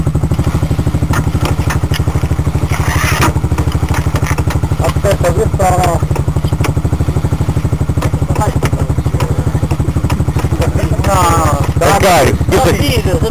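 A motorcycle engine chugs steadily at low revs throughout, close and loud, with people talking over it and occasional clatter.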